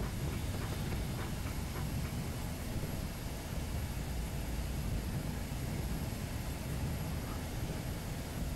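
Locomotive running in the video game Train Simulator 2018, a steady, moderately quiet broadband rumble and roar of the moving train with faint rhythmic clicks, continuous and without talk.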